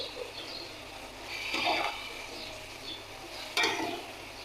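Washed, finger-cut potatoes tipped into a pot for aloo pulao, giving two close, wet splashing rattles over a soft, steady background hiss, with no talking.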